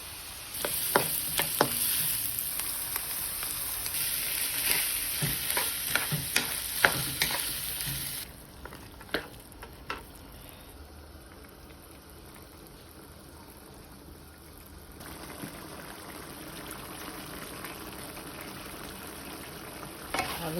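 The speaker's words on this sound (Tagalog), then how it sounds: "Mag-gisa na lang ako ng beef and potatoes, carrots, and peas." Ground beef sautéing in a pan with potatoes, carrots and peas, a steady sizzle and frying hiss broken by sharp scrapes and clinks of stirring, loudest early then quieter and steadier, close and without talk.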